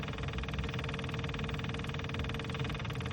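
A Kubota digger's diesel engine runs steadily just after refuelling, a faint, even idle with a rough mechanical rattle and no voices over it.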